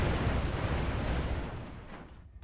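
A cannon volley fired by airships in the game Airships: Conquer the Skies, heard as one dense, loud rumbling burst of blasts that fades away over two seconds, with no talking.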